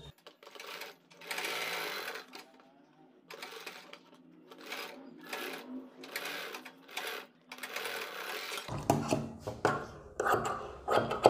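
A sewing machine runs a basting stitch joining two piping-edged kurti neck pattern pieces, in several bursts of rapid whirring separated by pauses, then continuous stitching with handling noise.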